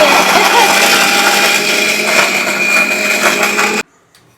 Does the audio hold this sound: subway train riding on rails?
no